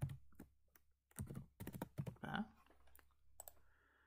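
Typing Python code on a computer keyboard: a few soft clustered keystrokes and taps, close but quiet, with brief pauses between bursts.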